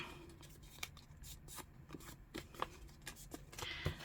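Scissors cut a piece out of wallpaper, giving quiet, crisp snips and soft paper rustling in short irregular bursts, close by with no talking.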